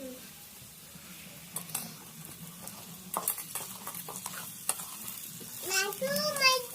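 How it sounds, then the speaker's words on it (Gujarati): Potato sabji being stirred in a pan after chilli powder and salt go in, with scattered scraping and clinking of a spoon against the metal over a soft sizzle, getting busier toward the end. "નાખ્યું તો હલાવો ને હલાવો."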